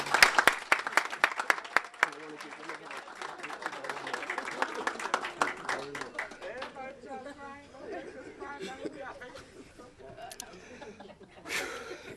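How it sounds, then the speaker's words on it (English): Clapping and cheering from a graduation ceremony audience, a burst of dense applause in the first two seconds that thins into scattered claps and crowd chatter, with people talking nearby. "everybody give them a round of applause."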